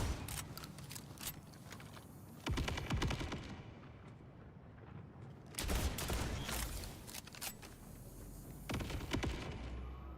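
Gunfire in the Borderlands 4 video game: dense bursts of rapid shots, with loud volleys near 2.5, 5.6 and 9 seconds over continuous battle noise.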